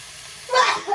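A single quick sneeze set off by black pepper while cooking ginataang sitaw with squash and shrimp, a short breathy burst after a faint voice.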